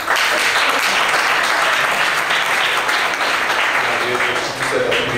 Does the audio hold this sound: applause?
yes